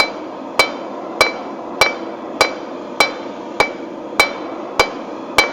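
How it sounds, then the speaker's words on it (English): A hammer strikes hot steel on an anvil while forging a taper for a leaf keychain, ringing out ten evenly spaced, sharp metallic blows with a bright anvil ring. "with my hammer blows. And that's one of the perks of kind of working at a rhythm"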